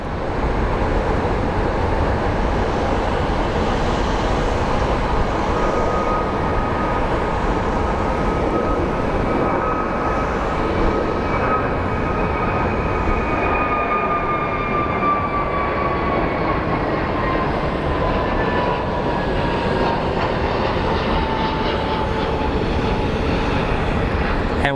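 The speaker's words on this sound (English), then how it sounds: "737 going over the bridge, operated by Alaska Airlines." Alaska Airlines Boeing 737 airliner passing over the taxiway bridge at Phoenix Sky Harbor International Airport, a loud steady engine roar with a slowly falling whine throughout, continuous and close.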